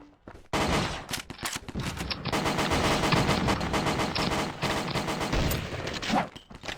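Dense automatic gunfire fills the Pixel Gun 3D video game, a loud, close, rapid stream of shots that stutters and continues for most of several seconds, with no voices.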